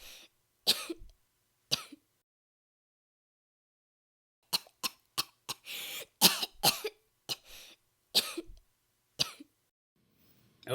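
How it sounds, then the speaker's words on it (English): A series of sharp coughs, some single and some in quick clusters, separated by quiet pauses, fairly close and moderately loud. "you ought to get that cough checked"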